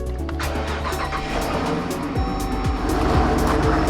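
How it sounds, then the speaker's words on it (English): A Jeep Grand Cherokee Trackhawk engine with headers and stock exhaust starts cold and revs loudly with a rough, crackling roar, settling into a busy, uneven idle with sharp pops. "Cold start."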